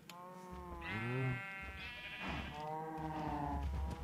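Sheep in a modded Minecraft-style survival game bleat several times in a row, wavering nasal calls close and clear over a faint background, with no talk.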